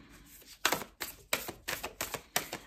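Oracle cards from a Postcards from Spirit deck riffle through the hands in quiet papery flutters, five or six soft bursts in a loose rhythm, close and faint.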